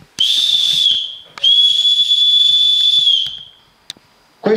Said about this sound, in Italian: Questo fischietto di bronzo, l'originale è stato trovato a Pompei, era un'altra degli elementi distintivi di un ufficiale